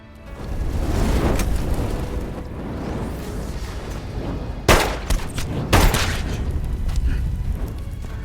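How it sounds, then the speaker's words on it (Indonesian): Bursts of gunfire crack through a film shootout, with a dense rumbling soundtrack under them and two sharp loud shots standing out near the middle, the whole thing booming and continuous. "baku tembak terjadi antara Yoon Hak-chul dan juga Pak Moyong"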